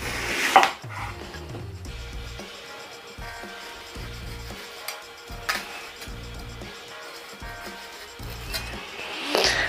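A knife chops onions and tomatoes on a board in a home kitchen, making a steady run of close, dull thuds with occasional light clinks of utensils.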